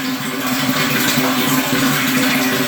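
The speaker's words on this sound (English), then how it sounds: "See, the water is coming up" Water steadily rushing into a sump pit fitted with a float switch and pump motor, a continuous, loud, even hiss and gurgle with no talking.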